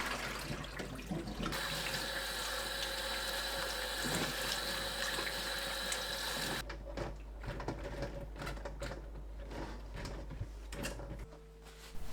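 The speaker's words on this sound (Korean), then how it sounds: "(20분) 후 물에 헹구고 물기 털어 체에 펼쳐서 2~3시간 물을 말립니다" Green chili peppers are rinsed under running water in a kitchen sink. A steady gush of water runs for several seconds, then quieter rattling and sloshing follows as they are shaken dry.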